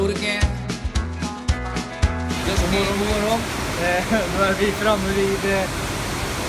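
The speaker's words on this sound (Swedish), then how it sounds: "ett vattenfall som vår chaufför har kört oss till. Väldigt vackert, väldigt stort." A large waterfall in Sri Lanka rushes as a steady broadband roar, heard at moderate level under someone speaking, with some music or other sounds over the start.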